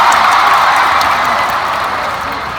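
A large comedy show crowd at Philippine Arena breaks into applause and cheering, a dense, steady roar of clapping and voices that begins loud and slowly fades over a few seconds.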